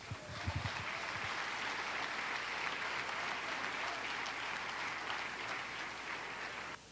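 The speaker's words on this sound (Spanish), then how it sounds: "Dale un aplauso al Señor." A church congregation applauding together, a dense steady wash of clapping that holds at an even level throughout, opening with a brief voice.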